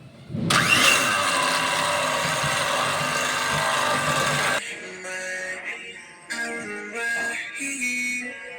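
500 ml of whipping cream is beaten with 8 tablespoons of powdered sugar, producing a loud, steady motor whir for several seconds, then a lower, shifting whine that rises and dips, close up with no talk.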